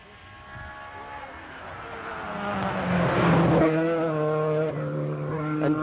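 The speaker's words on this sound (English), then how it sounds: "And just gone by Austin Mchale and his Opel Manta, really bomby it around the turn there." An Opel Manta rally car at the 1984 Cork 20 Rally approaches and sweeps past around a turn, its engine note swelling into a loud rising roar, then fading into a steady drone.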